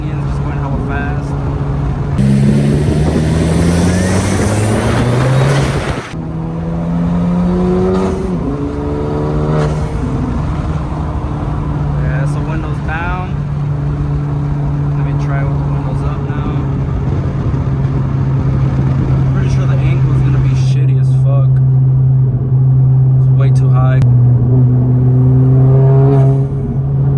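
A 10th-gen Honda Civic Si with an HKS blow-off valve drives fast through canyons, its engine droning steadily with rising and falling revs as someone talks over it throughout.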